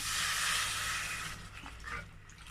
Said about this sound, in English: after mixing, I'm going to add water